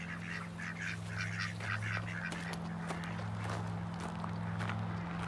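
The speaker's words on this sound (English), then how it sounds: "Here's our baby ducks." Baby ducks peep in quick high-pitched clusters over a steady low hum, faint and somewhat distant, with scattered rustling and footstep-like knocks around them.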